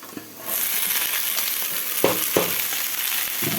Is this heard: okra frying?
yes